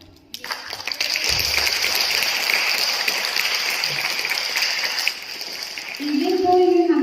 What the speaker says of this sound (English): So I think we should all give a great applause to ourselves.